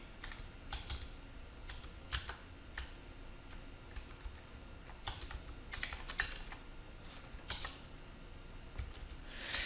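Networking configuration commands being entered on a computer keyboard, producing sparse, irregular bursts of light clicks over a quiet background for about ten seconds.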